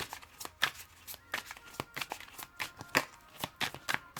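Tarot cards are shuffled by hand in a quick run of crisp riffling bursts and soft slaps, close and fairly quiet, with no talking.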